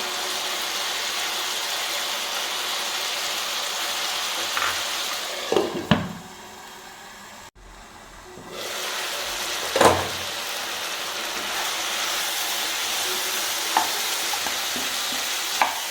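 Half an onion, finely chopped, fries in a pan for malai chicken, giving a steady close hiss with occasional scrapes of stirring and a brief quieter gap midway, no voices.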